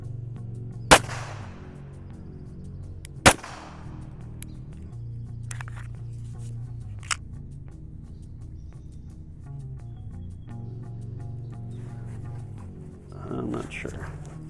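Two sharp, loud 9mm gunshots ring out a couple of seconds apart as rounds are fired at a Level IIIA bulletproof vest, followed by fainter clicks and handling noises under a low background hum.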